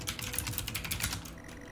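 Rapid keyboard typing in the video game Stories Untold clatters as quiet, steady keystrokes, a dense run of light clicks that thins out toward the end, with no talk.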